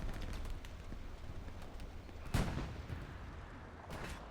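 Artillery fire in the Hell Let Loose battle on Omaha Beach: a steady rumble of distant gunfire, broken by one loud, sharp blast partway through and a fainter burst near the end, with no talking.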